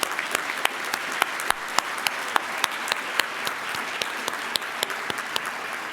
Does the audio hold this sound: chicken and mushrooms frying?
no